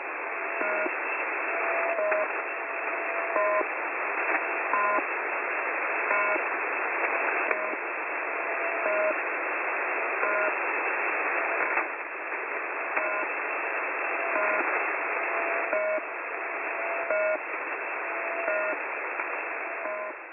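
A Russian military shortwave radio signal on 4201 kHz hisses steadily with band-limited static, marked by a faint repeating tone and soft periodic ticks in a regular cycle, continuous and without any voice.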